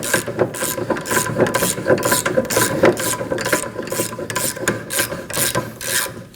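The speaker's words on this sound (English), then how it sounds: "And now we're gonna loosen the bolt." A 19mm bolt on a 2011-2016 Kia Optima rear hub assembly is loosened with a socket and wrench, giving a rapid, loud, continuous ratcheting click close up, with no talk.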